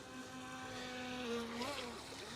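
An FTX beginner RC boat's electric motor held at full throttle gives a steady, close, high-pitched whine with a slight upward pitch swing near the end, over a faint wash of water and wind.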